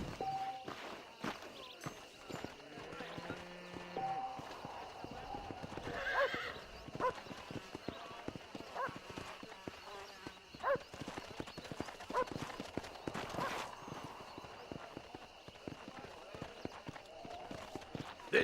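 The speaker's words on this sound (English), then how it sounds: "This steed looks right tetchy, I don't mind telling." Horse hooves clip-clop and a horse neighs in the Red Dead Redemption video game, a restless, tetchy steed heard amid busy in-game ambience and background voices over a steady stretch.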